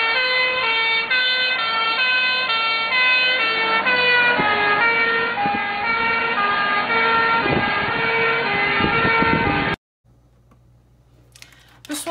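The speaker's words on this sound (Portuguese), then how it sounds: "você tem a sirene passando pelo observador" An animated emergency vehicle siren wails in a repeating two-tone pattern as it passes an observer, shifting pitch with the Doppler effect, then cuts off abruptly, leaving faint low background noise.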